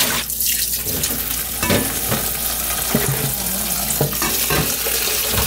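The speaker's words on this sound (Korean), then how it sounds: "깨끗해서 한 번만 더 헹구면 될 것 같습니다" Tap water runs and splashes as mugwort is rinsed in a sink for soup, a loud, steady rush with brief clatters and sloshes, no talking.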